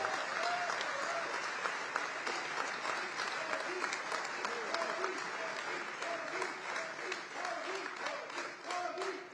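An audience welcoming Prime Minister Modi at the John F Kennedy Center keeps up dense, sustained applause for about nine seconds while a voice speaks over the clapping.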